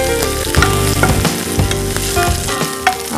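Leafy greens fry loudly in a pan, a dense close crackling sizzle broken by repeated clattering stirs and scrapes of a spoon, with no one talking.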